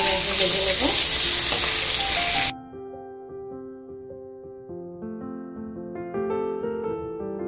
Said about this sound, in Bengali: আমি চারটা সসেস নিয়েছি, সুন্দর করে আমি একটু ভেজে নেব